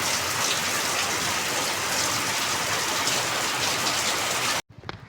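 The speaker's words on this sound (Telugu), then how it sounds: "వర్షం అయితే అస్సలు వదలట్లేదు ఉదయం నుంచి" Heavy rain from a cyclone pours in a steady, dense hiss, loud and close, then cuts off abruptly near the end.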